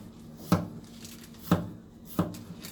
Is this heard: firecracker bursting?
no